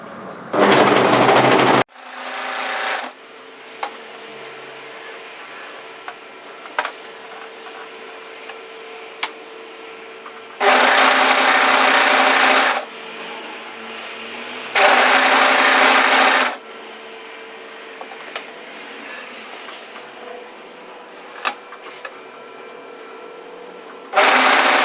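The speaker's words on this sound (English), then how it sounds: "So now I'm just going to continue overlocking." An overlocker sewing machine runs in loud, buzzing bursts of a few seconds each as it stitches hoodie fabric, separated by quiet stretches with small clicks and handling noises.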